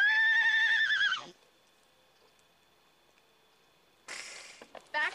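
A horse whinnies loudly with a long quavering call, followed by quiet, then another shorter burst of neighing.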